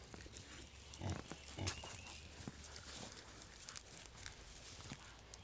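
Pigs let out to root and dig in an outdoor patch, grunting and oinking softly at a distance in a quiet setting, with light shuffling around them.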